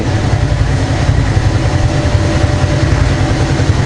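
A Kayo Chinese quad ATV idles on its own after a start without throttle. It makes a steady low rumbling chug close by, even and unbroken, with no voices over it.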